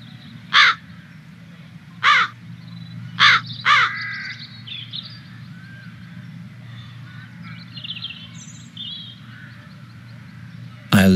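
Crows in a video game give four loud harsh caws spaced about a second apart, then a quiet stretch of faint ambience before one last caw at the end.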